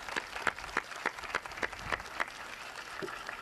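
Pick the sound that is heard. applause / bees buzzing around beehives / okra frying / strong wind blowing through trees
applause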